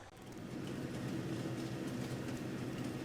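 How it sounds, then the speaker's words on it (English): A train rumbles along carrying pallets in Farming Simulator 22, a steady, even low roll of rail noise with faint rhythmic clatter, continuous and moderately loud with no talking. "Here we are on the train."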